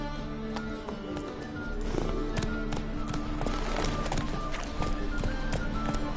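Roach, Geralt's horse in The Witcher 3, gallops with steady clip-clopping hoofbeats over a busy game soundscape, the pace quickening and staying loud throughout.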